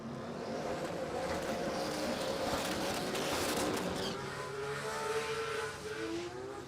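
Toyota Supra drag car at a drag strip, a steady loud engine drone with rising and falling tones and a faint whine, heard from a distance without talk.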